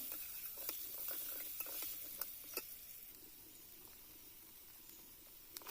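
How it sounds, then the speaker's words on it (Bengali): Potatoes fry in a pan with salt and turmeric, a faint low sizzle broken by sharp clicks and taps of a spatula stirring, quiet and close with no talking. "আলুতে আবার দিয়ে দিলাম নুন আর হলুদ দিয়ে লাল লাল করে ভেজে নেবো"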